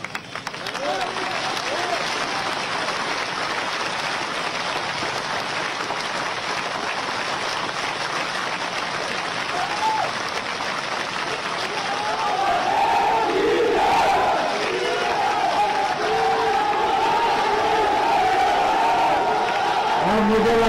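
A large crowd at an outdoor BJP election rally in Sumawali claps and cheers in a sustained wash of applause, growing louder partway through with shouts and whistles rising above it.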